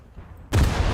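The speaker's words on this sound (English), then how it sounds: "Big ol' explosion effect." A large base blows up in a naval warfare video game: a sudden heavy explosive boom bursts in after a quiet moment and carries on as a dense, rumbling roar.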